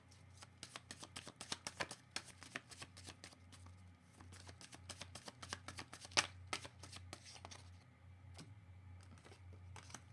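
Oracle cards being shuffled by hand to draw one, a long run of quick soft riffling and slapping card sounds, close and fairly quiet with an irregular rhythm.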